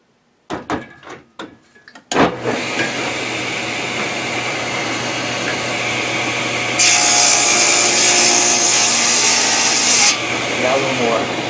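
Cherry wood strips are cut with a power saw. A few sharp knocks come first, then the blade runs steadily and loudly, whining harder under load in the middle before easing back.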